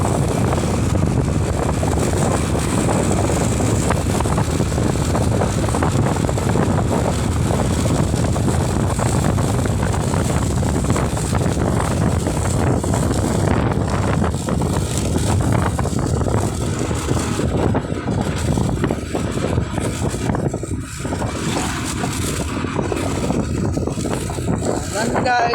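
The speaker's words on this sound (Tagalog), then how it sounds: "Meron pang hangin." Wind gusts blow hard across the microphone outdoors on an overcast day after rain, a loud continuous roar and buffeting that eases slightly toward the end.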